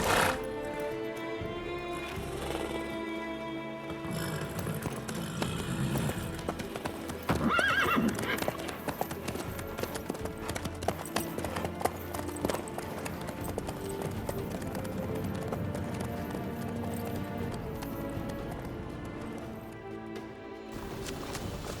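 In The Witcher 3, horse hooves clip-clop at a steady walking pace throughout, with a horse's whinny midway. Background music plays underneath the hoofbeats.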